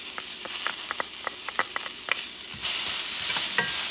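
Onion and peppers being stirred in a hot pan, sizzling steadily with a run of sharp utensil scrapes and clicks, then a louder rush of frying near the end.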